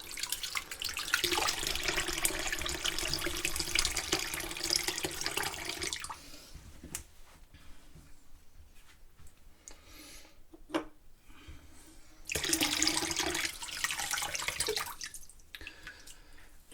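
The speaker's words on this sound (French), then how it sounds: "je vais me rincer." Water runs from a tap into a sink while a face is rinsed after a shave, a steady close splashing stream that stops briefly in the middle with scattered drips and rubbing, then resumes.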